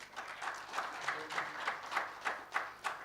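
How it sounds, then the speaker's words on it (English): An audience at a national student physics symposium claps for an arriving speaker, a steady, moderately distant round of applause with regular clustered hand claps over about three seconds. "we have to give a good applause to him"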